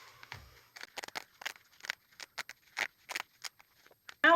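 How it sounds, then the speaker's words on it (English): Scissors slid into a trouser hem and cutting it open, heard as a quick series of short, crisp close-up snips with brief pauses between them. "I'm just sliding it in there, making sure that I don't cut the outside layer."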